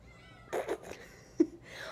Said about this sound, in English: What a silly cat.